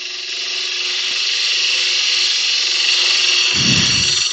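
High-pitched whirring of wood being turned on a lathe and cut with an 8mm carbide cutter tool, steady and close throughout, with a brief low rumble near the end.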